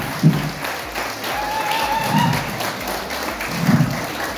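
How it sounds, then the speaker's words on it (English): An audience at a student Model United Nations gathering claps together, a moderately loud, continuous patter of hands with a few heavier thumps scattered through it. "Ladies and gentlemen, may I have your applause, please?"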